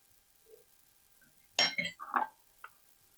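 Dried beans go into a baking pot for Boston baked beans with salt pork and onion, making a short burst of rattling clinks and taps around the midpoint, alone and fairly close.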